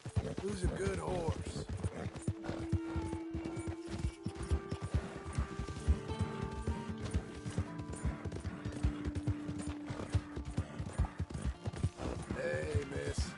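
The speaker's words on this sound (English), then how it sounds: "Who's a good horse?" A horse's hooves clip-clop in the Western video game Red Dead Redemption 2. The quick, even steps run throughout at close range, with a rider's voice and a brief whinny near the start.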